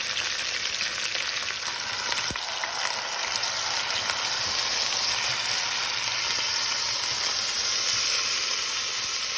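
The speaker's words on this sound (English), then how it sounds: "you hear your pot roast sizzling as you are searing it on both sides" Pot roast sears in a hot pan with a steady, loud sizzle and crackle that holds evenly throughout, with no talking.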